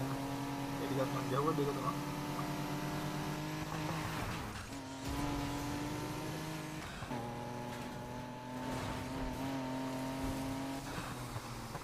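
A BMW i8 slides through drifts in Need for Speed Heat, its engine droning steadily with tonal shifts and tire noise, while someone talks over it throughout.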